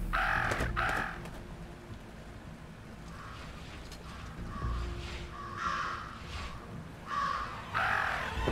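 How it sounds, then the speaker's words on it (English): Crows caw over and over in the video game Jenny LeClue, loud harsh calls coming in bursts across the scene, mixed with creaking, ratchet-like mechanical sounds. "Talk about a murder of crows."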